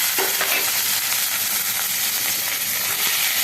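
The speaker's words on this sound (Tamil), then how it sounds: "அதனால வெறும் பச்சை மிளகா போட்டு கிண்டணும். நல்லா கிண்டுங்க." Green chillies sizzle steadily in oil in a pan for white pulao as they are stirred, a loud, close, continuous hiss with faint scraping and no talking.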